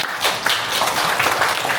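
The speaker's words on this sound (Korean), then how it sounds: "오늘 수고해 주신 우리 신승 목사님께 큰 박수" A group applauds a pastor who led a woodworking workshop making cutting boards from wild cherry and elm at a Gangneung polytechnic campus. The clapping is steady and dense, fairly close, and lasts about two seconds without pause.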